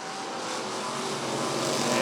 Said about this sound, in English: Great flag, and we're racing!